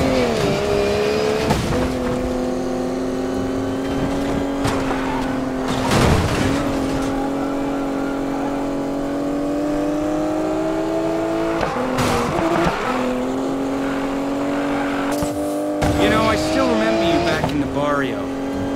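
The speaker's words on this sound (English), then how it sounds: "I'm beating you, Morgan. I barely even have to steer." Race cars in Need for Speed Payback roar steadily through an outlaw race, with engine tones rising and falling between gear shifts, tires squealing and skidding at intervals, and sharp impact bursts along the way.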